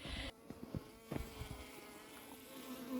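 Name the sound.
defensive bees buzzing in pursuit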